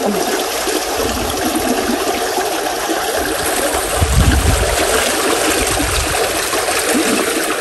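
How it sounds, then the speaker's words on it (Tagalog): River water rushes steadily and loudly into a fish pond, a continuous broadband gush with a heavier surge partway through, close by and unbroken. "Mabilis ang pagpasok ng tubig sa fish pond."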